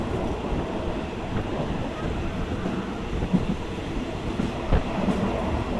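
Thai passenger train on the Bangkok to Chumphon line rolling steadily, a continuous low rumble of wheels and carriage with a few louder clanks and knocks, heard from inside the car with wind noise and no talking.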